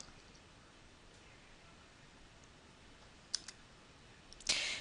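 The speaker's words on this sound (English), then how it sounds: "I'm going to click on OK" Mouse clicks on an OK button: two small, sharp clicks, then a louder one, heard alone over faint room hiss.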